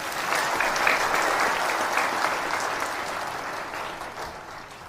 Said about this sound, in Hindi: और ताली तो बजा दिया करें।